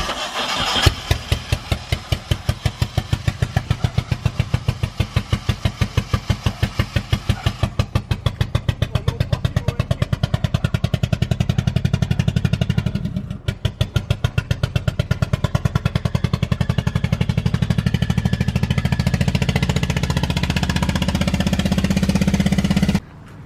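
A Nissan 240SX engine, freshly swapped to a 5-speed, cranks and fires, then runs at a loud, close, rough and rapidly pulsing idle for over twenty seconds, with a brief dip midway before shutting off.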